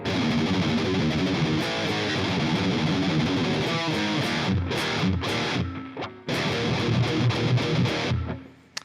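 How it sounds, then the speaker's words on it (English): An intro riff on heavily distorted electric guitar plays loud and dense with fast chugging power chords, cuts out briefly about two-thirds through, then returns and rings out at the end. "this ending, which is based off of the main riff again, the intro riff."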